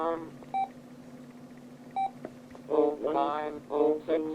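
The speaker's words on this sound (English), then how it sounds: "Alarm." Two short, clean electronic beeps about a second and a half apart come from a Vox talking alarm clock, recently cleaned of battery-leak corrosion, over a steady low hum; a voice-like sound follows.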